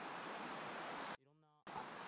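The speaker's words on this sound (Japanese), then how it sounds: "すぐそばを武漢川が流れてて、そこの水のせせらぎも聞こえていい雰囲気です" A babbling stream runs beside a road in the Ukan river valley, giving a steady, close rush of water that breaks off briefly while a voice is heard, then resumes.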